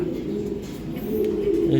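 A female racing pigeon coos in low, steady rolling tones, close and continuous, growing slightly louder toward the end, with faint voices in the background.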